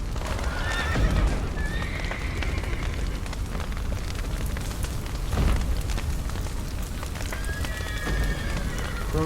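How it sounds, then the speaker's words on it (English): Frightened horses in The Witcher 3 neigh shrilly several times over a constant roar of fire and thudding hooves, their whinnies rising clearly above the dense background. "Can I not save the horses?"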